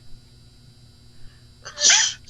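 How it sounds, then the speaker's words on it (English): A single loud, close human sneeze, a sharp burst after a quiet indoor stretch during a Phasmophobia game session. "Sorry, I was sneezing."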